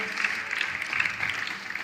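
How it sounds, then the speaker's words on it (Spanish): Audience applause for guests Andrés and Sonia Murcia at a church gathering in Bogotá, a steady, fairly faint patter of many hands clapping that holds evenly for a couple of seconds. "Démosles un fuerte aplauso."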